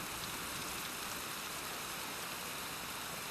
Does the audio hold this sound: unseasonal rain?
yes